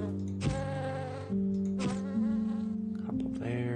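Bee buzzing in a video game, loud close droning tones that swell and shift pitch in several bursts across a few seconds, heard alone without talk.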